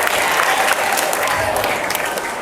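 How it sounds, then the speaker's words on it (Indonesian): A room of junior high students at a school Maulid Nabi celebration claps together for a seventh-grade boy, a brisk, dense burst of applause that stays loud and fairly even. "Tepuk tangan buat Rehan."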